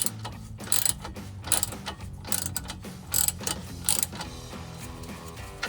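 Rapid ratchet clicking in repeated bursts while tightening exhaust bolts on a 2005-2010 Mustang V6 axle-back exhaust, each stroke a quick metallic ratcheting run, close and steady with no talking.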